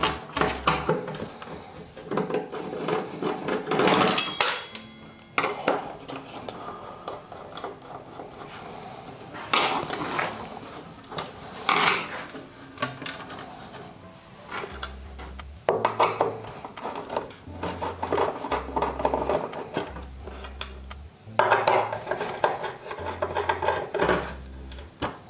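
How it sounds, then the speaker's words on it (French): Six small screws are removed from the riving knife support of an Einhell TE-CC 2025 UF table saw, with close, loud rasping, rubbing and scraping in uneven bursts and brief low knocks. "il vous suffira d'enlever les 6 petites vis qui tiennent le support"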